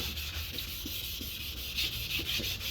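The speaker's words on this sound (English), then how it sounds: "So you don't have to push down as you're sanding off the clear coat." Wet sanding of the clear coat off a car headlight, a close, steady abrasive hiss with soft, regular back-and-forth strokes under light pressure, continuous and without speech.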